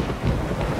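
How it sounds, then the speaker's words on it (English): A thunderstorm rolls through in The Witcher 3, a dense, loud wash of low rumbling and rain-like noise filling a brief moment, with no voices. "Storm, damn it."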